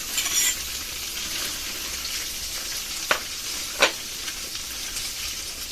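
Tofu fries in a pan with a steady close sizzle and hiss, broken by a couple of sharp pops or scrapes near the middle.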